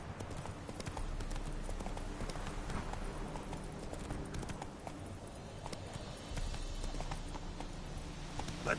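Roach the horse gallops in The Witcher 3, a steady, loud run of rhythmic hoofbeats that continues without pause, with faint game ambience beneath.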